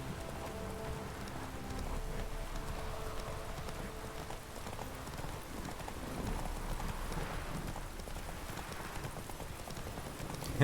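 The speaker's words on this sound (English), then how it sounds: "O cavalo ele não cansa, não? Tem outro cavalo viajando ali" A horse's hooves clip-clop steadily in The Witcher 3 video game, close and continuous under a light rain-like hiss, with no talk.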